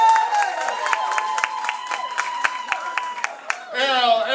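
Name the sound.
audience applause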